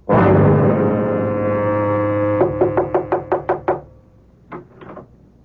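Knocking on a hotel room door in a radio drama, a series of about eight sharp, evenly spaced raps following a long low horn-like tone, then two quieter knocks after a pause.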